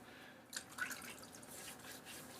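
Water drips onto a Cube 2.0 shaving soap to hydrate it, giving a few soft, close splashy drips over a quiet background.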